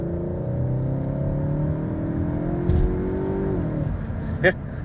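A 2025 Cupra Leon Estate's 2-litre TSI petrol engine climbs steadily in pitch as it accelerates, then drops off as the revs fall, with a faint click near the end.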